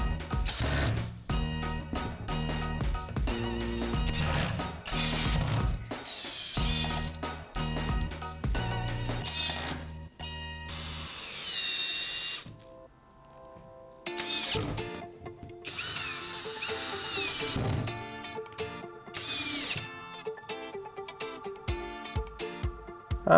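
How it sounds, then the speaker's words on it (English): A drill used as a screwdriver drives screws into scrap timber while a workbench is being built. Several loud, close bursts of whining motor with ratcheting clicks are separated by short pauses, with no talk. "that's half the problem when you use a drill as a screwdriver"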